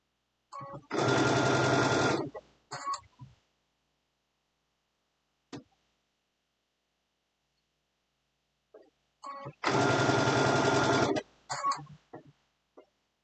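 A sewing machine stitching fabric for an Easter basket runs in two steady bursts of about a second each, separated by a long quiet pause, with small clicks and handling noises after each run.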